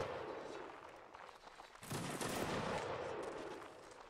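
Musket fire in a Mount and Blade Warband Napoleonic Wars line battle, distant crackling volleys that swell into a louder, denser burst midway before fading, with no speech.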